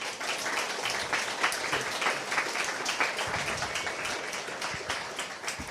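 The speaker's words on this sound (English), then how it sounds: "I think we should give them a collective applause of love" An event audience gives the panelists a round of applause, a soft, somewhat distant patter of many hands that carries on evenly throughout.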